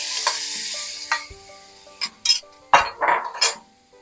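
An onion mix for veal paprikash is returned to a hot pan. A few sharp clinks and scrapes of utensil against metal come close up, followed by short bursts of sizzling.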